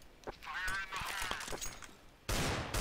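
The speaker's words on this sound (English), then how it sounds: "it starts playing gun sounds" Fake gunfire from a Counter-Strike: Global Offensive decoy grenade lying on the ground, a loud burst of sharp shots that begins suddenly near the end, after a stretch of game sound with a voice talking over it.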